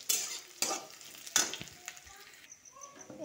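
Chopped potatoes, onion and chili fry in a pan, heard as a close sizzle with a few sharp stirring scrapes and spatters.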